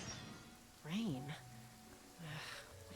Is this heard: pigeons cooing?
no